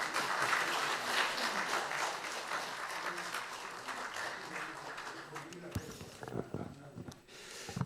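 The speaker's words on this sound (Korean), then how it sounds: "여러분 환영의 박수 부탁합니다." Applause from an audience at the founding ceremony of a commemorative society, greeting a National Assembly vice-speaker invited to give a congratulatory speech. Dense, steady clapping carries the whole stretch and thins toward the end.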